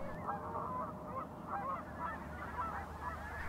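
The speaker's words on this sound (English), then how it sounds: "Gaggles of geese." A gaggle of Canada geese honks steadily at a pond, with several birds calling in overlapping bursts. The calls sound moderately close and carry over soft outdoor background noise.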